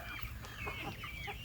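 Farm chickens in a poultry house cluck and murmur softly at a distance, several birds calling in short overlapping bursts against a low background hum.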